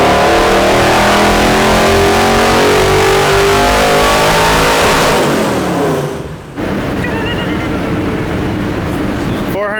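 A 400hp V8-swapped van strains through a dyno pull, its engine roaring loud and rising steadily for several seconds before a sharp lift-off dip, then settling into a strong, droning idle-to-mid rev.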